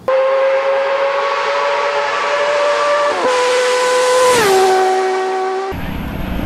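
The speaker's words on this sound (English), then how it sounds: "I love the inline six sound" An inline six-cylinder motorcycle engine revs high and smooth with a steady, whistling wail that climbs, dips slightly and shifts pitch near the end, loud and close with no talking.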